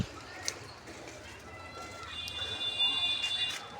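Pigeons are let out of their home loft, giving faint, scattered bird calls and light fluttering over a low background rumble, with a brief knock near the start.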